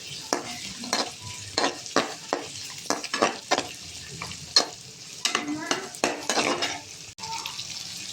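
Two cloves of garlic sautéed in a pan, with steady sizzling broken by a spoon repeatedly scraping and clinking against the metal in an uneven rhythm, close and fairly loud.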